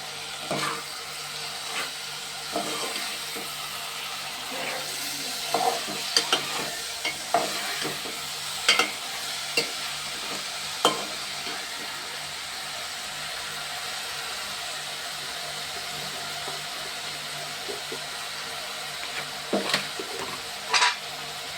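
Green chilies fry in hot oil with a steady sizzle throughout, while a spoon scrapes and clicks against the pan in irregular stirring strokes.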